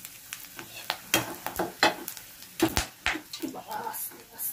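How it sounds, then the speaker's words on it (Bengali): Whole spices (dried red chillies, cumin, garam masala, cloves and bay leaf) crackle in hot oil just used for frying dhoka. Loud, close, irregular pops and spits sputter over a sizzling bed. "লবঙ্গগুলো যা ফুটছে,"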